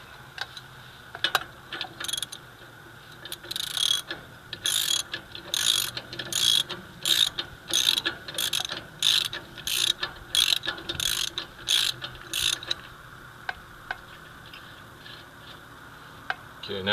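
A 1/2 inch drive ratchet with a 1.5 inch socket turns the axle nut on a 7000 lb Dexter trailer axle. It gives a quick, close run of about a dozen rhythmic bursts of pawl clicking, then a few scattered clicks.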